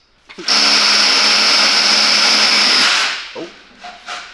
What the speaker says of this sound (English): So he's relieving torque on the bolts right now